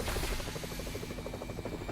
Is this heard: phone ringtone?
no